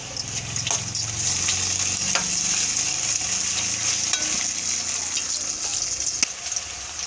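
Chopped tomato pieces sizzle and fry steadily in a pan for a mushroom curry, a continuous loud hiss with occasional stirring clinks, no talking.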